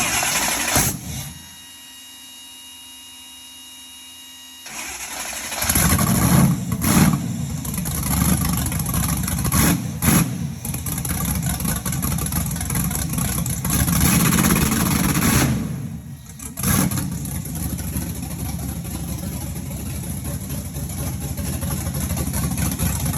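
A car engine bounces against a rev limiter set very low, with a loud, steady, buzzing roar held for several seconds, a brief drop, then the same sustained high revving again, heard up close.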